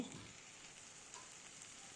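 Sliced onions fry in oil in a wok with a soft, steady sizzle, faint and continuous with no talking.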